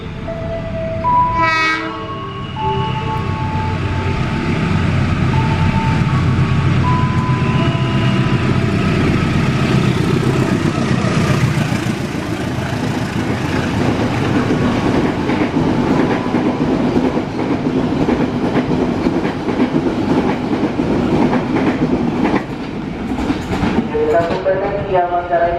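A Cirebon Prujakan passenger train passes close by with a loud horn blast at the start, then a long, sustained roar of wheels and carriages with rhythmic clickety-clack, and a second horn sound near the end.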